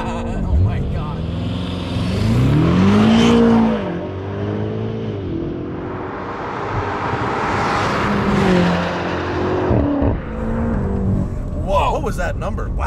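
An 882 HP CarBahn BMW M8 Competition accelerates hard with a loud, rising engine note that climbs and drops through gear changes. Excited voices talk over it throughout.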